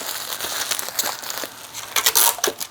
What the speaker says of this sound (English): And then I'm going to put him in a plastic bag.